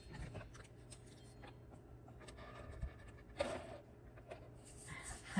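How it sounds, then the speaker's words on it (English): Scissors snip through paper up close in a few quiet, short cuts, with light rustling of the paper between them. "so we'll cut that off."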